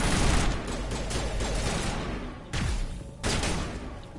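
Dense bursts of automatic gunfire from a Mass Effect 1 Legendary Edition firefight, loud and sustained with two brief breaks before the shooting resumes.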